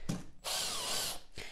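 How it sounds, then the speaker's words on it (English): A power drill bores into cured epoxy and then the plastic of a 3D printed hand, with a brief burst, a pause, then a long loud steady whine followed by a short restart. "that is epoxy that we're drilling into, but now that we will be drilling into the plastic, it'll be a lot easier and going a lot faster"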